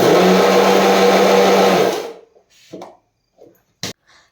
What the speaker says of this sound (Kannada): ಇವಾಗ ಮಿಕ್ಸಿಗೆಲ್ಲ ಹಾಕಾಯ್ತು, ಎಲ್ಲ ಹಾಕಿ ರೆಡಿ ಮಾಡಿ ಇಟ್ಟಿದ್ದೀನಿ